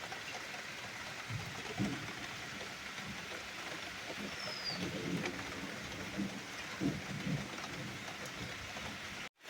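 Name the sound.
rain with thunder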